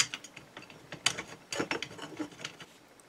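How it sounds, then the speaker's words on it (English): Metal bolts being tightened with lock washers while fitting the top rail onto the side rails of a Tevo Tarantula Pro 3D printer frame, heard as close, quiet ratcheting clicks and scrapes in irregular bursts. "Now we can install the top rail on top of the side rails using the four big bolts with a lock washer."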